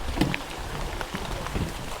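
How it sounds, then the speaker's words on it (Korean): Heavy rain falling along a Hallasan mountain trail on Jeju, with gusty wind on the slope, forms a steady, dense wash of patter with a few louder drops standing out, and no voices are heard. "빗방울이 제법 굵고요."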